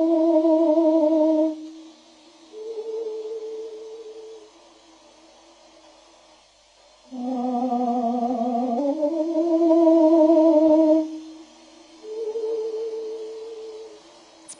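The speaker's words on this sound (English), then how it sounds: "That is the sound of a bird, slowed down to a pace that the human ear mistakenly recognizes as its own." Birdsong slowed down to a human vocal pace sounds like an opera singer warming up, with sustained, rich tonal phrases that swoop and waver, separated by short quiet gaps.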